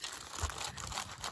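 Thin sheet of foil laid down on brown paper bag material and crinkled, a steady close-up rustling and crackling that runs throughout with no voices.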